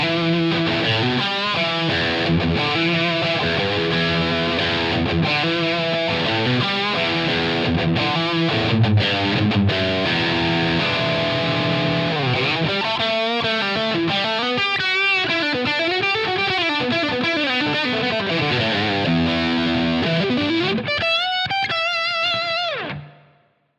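A distorted electric guitar through a Line 6 Helix modelling the Revv amp plays a dense, saturated riff with chugging chords and bending lead lines, sustained and loud for over twenty seconds before cutting off abruptly.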